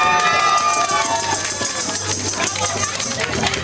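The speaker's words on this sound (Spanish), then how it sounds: "un aplauso para todas las chicas que se animaron" Lively audience applause and cheering for girls volunteering at a student tuna music show in Atotonilco, San Luis Potosí, a dense, steady roar of clapping and shouts with voices calling out throughout.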